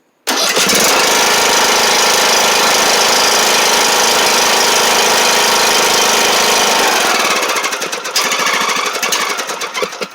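An old lawn mower's small engine catches after a brief crank and runs loudly at a steady, rough roar close by, easing slightly near the end, with no talking.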